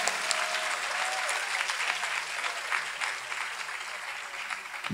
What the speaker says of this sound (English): if you can all just give me a round of applause